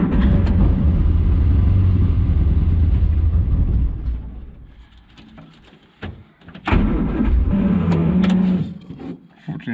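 Morris Minor engine cranks and fires on choke with starting fluid, giving a loud rough low rumble that dies away, then a second surge of running and clatter nearby.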